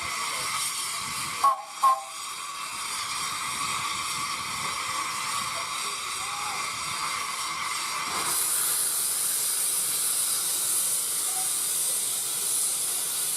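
Two steam saddle tank locomotives hiss continuously, with a couple of brief sharp knocks early on, then the steam swells into a louder, brighter hiss that holds to the end, with no voices.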